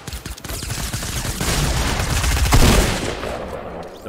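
Rapid gunfire in Fortnite Battle Royale, shots hammering at a player's build, with dense overlapping bursts building to a loud peak before tapering off near the end.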